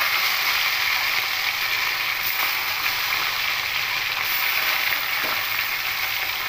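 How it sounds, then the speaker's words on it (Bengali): Pieces of small rohu fish sizzle in hot mustard oil in a kadai, a loud, steady, close crackling hiss without pause. "কড়াই সর্ষে তেল দিয়েছি, তেলটা গরম হয়ে গেছে। এবার মাছগুলো দিয়ে দেবো।"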